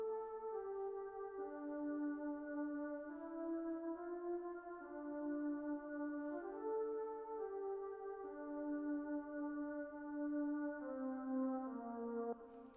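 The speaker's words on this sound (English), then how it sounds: "It's a violin. This is what it sounds like. I used Nexus to play it." A violin played through the Nexus plugin carries a slow, sustained melody of long legato notes in an Afrobeat-style production, soft and alone with no talk.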